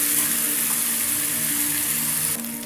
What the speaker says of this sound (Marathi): कांदा आणि खोबऱ्याची पेस्ट टाकून घेऊ। त्याला तेल सुटेपर्यंत फ्राय करायचं आहे।